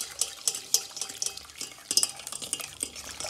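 Milk is whisked into a mixture as it is poured in little by little, giving a steady scraping swish of a whisk against a bowl with light clinks and taps, no voices.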